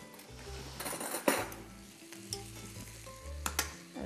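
Food sautéing in oil in a pan for an eggplant dish, a low continuous sizzle broken by clinks and scrapes of utensils against the pan, with no talking.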